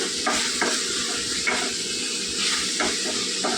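Ridge gourd fry sizzles in a pan while a spatula stirs it, with periodic scraping strokes over the steady frying hiss, close and alone.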